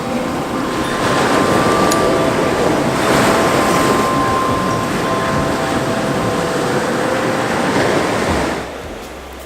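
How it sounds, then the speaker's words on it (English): Ocean waves surge and wash up on a sandy beach in a bay, a loud, continuous roaring wash with wind buffeting the microphone, fading at the very end; no talk. "what's happening is if the waves are washing up around the tripod legs, they're washing the sand out from underneath the feet"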